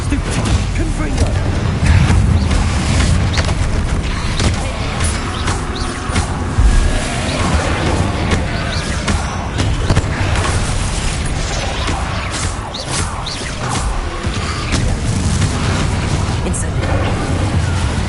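Dense, continuous explosive blasts from the Confringo spell in a Harry Potter video game, with repeated booms and crackling bursts layered over busy combat noise and a speaking voice, loud and close throughout.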